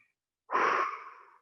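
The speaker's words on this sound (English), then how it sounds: "And breathe" A single slow, audible breath during a yoga stretch, a soft breathy exhale of about one second, close and alone after silence.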